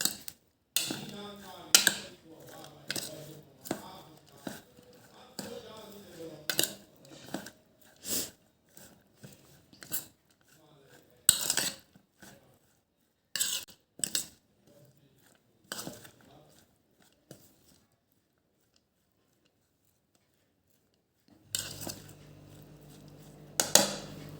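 A spoon clinks and scrapes against a bowl while lachcha salad ingredients, including cumin powder and lemon juice, are tossed together in irregular bursts of soft clatter, then pauses before a final scrape.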